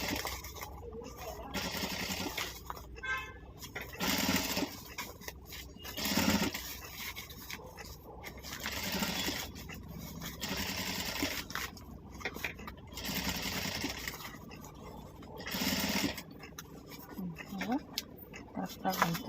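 A sewing machine stitches around the curve of a round handbag, its quiet, uneven whirring and clicking starting and stopping in short runs beneath steady talking nearby.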